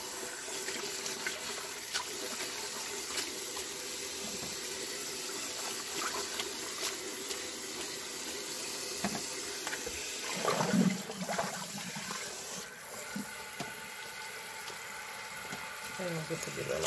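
Baby bok choy leaves are rinsed under a running tap, a steady close hiss of water with splashing changes as the leaves move beneath the stream.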